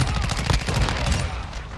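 Rapid automatic gunfire from the Chimera rifle in Call of Duty: Modern Warfare II, a dense, loud burst of closely spaced shots running steadily for under two seconds amid game noise.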